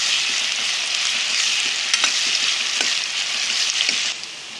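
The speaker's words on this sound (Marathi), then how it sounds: "चांगला कांदा फ्राय होऊ देते, चांगला मस्त" Chopped onion frying in oil in a pan for sev bhaji, a loud, dense sizzle up close with occasional spatula scrapes, softening slightly at the end.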